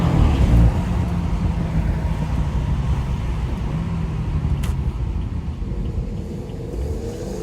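BMW 340i xDrive with 400 hp on a late-night rainy city drive, a steady low engine and road rumble with wet tire hiss, continuous and fairly loud from inside the car.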